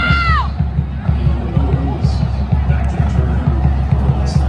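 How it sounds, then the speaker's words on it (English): Stadium crowd at a sold-out high school football game, North Shore vs. Westlake, roaring and cheering steadily, a dense wash of distant voices filling the stands, with a brief whistle-like tone at the start. "A sold-out crowd here today."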